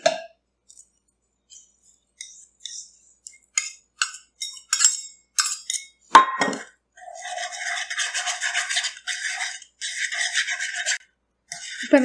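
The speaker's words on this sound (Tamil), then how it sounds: "இப்போ இந்த ஜெலட்டினை வந்து இந்த ஸ்ட்ராபெரி மிக்சரோட ஆட் பண்ணி நல்லா மிக்ஸ் பண்ணி விடலாம்." Bloomed gelatin is stirred into a strawberry mousse mixture, with a series of soft scraping and clinking strokes against a bowl, sparse at first and then a steadier rhythmic rubbing, close and fairly quiet.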